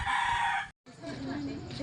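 A rooster crows loudly nearby, its call breaking off briefly before continuing, with low background chatter underneath.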